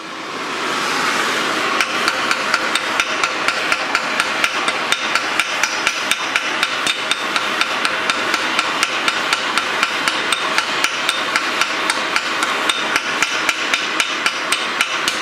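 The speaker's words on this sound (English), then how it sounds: "Grab that tip and hammer for me." Rapid, steady hammer blows ring out on a metal tip during a Jeep JK one-ton axle swap in a workshop, dozens of sharp evenly spaced strikes close up and loud for the whole stretch.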